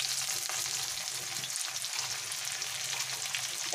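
Chopped onion sizzles in hot oil seasoned with bay leaf, dried chilli and cumin seeds, a continuous close crackling fry with faint stirring scrapes.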